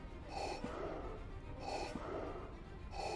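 Heavy, rhythmic breathing from a character in the video game Star Wars: The Force Unleashed 2, with three slow gasping breaths spaced evenly and heard close and clear without talk.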